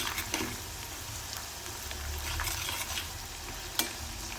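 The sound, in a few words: cashews frying in oil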